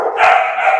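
A dog barks and yips in a continuous, excited burst at close range, loud and steady throughout, with no talking.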